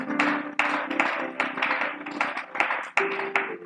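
A church congregation at the close of a fasting and prayer session claps rhythmically in praise, a close, loud run of sharp hand claps with brief pauses between bursts.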